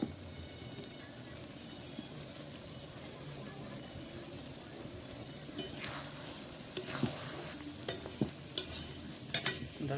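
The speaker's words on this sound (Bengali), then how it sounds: "তো একটু পর আবার কষবো ভালো করে, আমরা আবার লাড়বো।" Chicken curry (kosha) fries with a low steady sizzle in the pan, joined later by several sharp scraping and clinking strokes of a spoon stirring, close and fairly faint.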